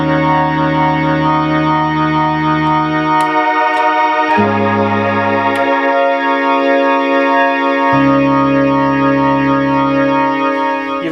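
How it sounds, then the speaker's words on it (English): Moog Opus 3 synthesizer playing sustained chords through its slow chorus setting, a loud, steady layered tone with chord changes every few seconds and gentle shimmering movement, no voices. "so you can go from fast chorus to slow chorus"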